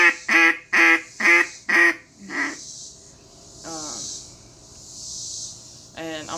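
A blown duck call gives a greeting call: four loud, evenly spaced quacks, then a fifth softer one and a trailing note. Some breathy hiss and more quacks follow after a pause.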